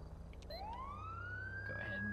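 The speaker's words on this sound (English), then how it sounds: "Go ahead and use our sirens to flip around" A police car siren in GTA 5 winds up from low to a steady high wail over continuous engine rumble, loud and close, lasting about two seconds.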